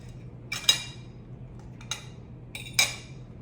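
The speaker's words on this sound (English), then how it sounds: "I'm gonna cut it in half so that you can see what's in here" A knife slices through a crisp fried Philly beef and cheese egg roll on a plate, giving three sharp clinking scrapes spaced about a second apart against the hard surface, close and without talk.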